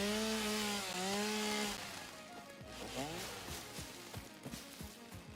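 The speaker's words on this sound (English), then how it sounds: "Chainsaw noise." A chainsaw in the video game Satisfactory revs with a rising, wavering buzz, then settles into choppy idling and cutting bursts, fairly loud and close, with a voice talking over parts of it.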